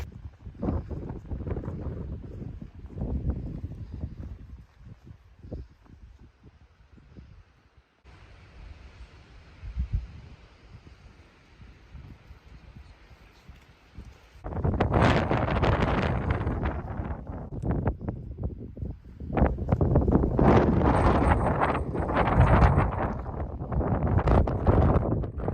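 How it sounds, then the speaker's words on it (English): Strong gusty wind on an open mountain bald along the Appalachian Trail, buffeting the microphone in loud roaring bursts that ease briefly before surging harder toward the end. "It is really windy, but I still think it should be nice."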